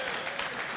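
Brief burst of audience applause at a stand-up comedy show, dense steady clapping with no voice.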